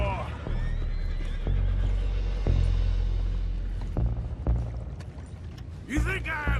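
Horses whinny and snort amid a busy action scene from Red Dead Redemption 2, with a rising neigh near the end, over steady rumble, clattering hooves and mechanical clanks, while voices talk throughout.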